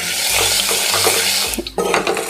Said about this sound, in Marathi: अर्धा चमचा हिंग घातलेला आहे अर्धा चमचा हळद घालते मी